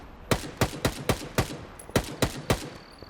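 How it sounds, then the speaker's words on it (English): Assault rifle fire in the video game Stalker 2, with bullets hitting trees: about ten sharp single shots at a fairly even, rapid pace, each a crisp crack with a brief tail. "So this is the new assault rifle that I'm using, and I really like this bit. Can you hear the bullet hit the trees?"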